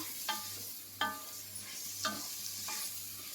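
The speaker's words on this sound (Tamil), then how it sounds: "இதெல்லாம் நல்லா ஃப்ரை ஆகிறது தான் உங்களுக்கு அந்த பிரியாணியோடைய பதமே" Mint and coriander leaves sautéing in a pan for jeera samba biryani, a steady low sizzle broken by four sharp scraping stirs of a ladle at roughly even intervals, close by.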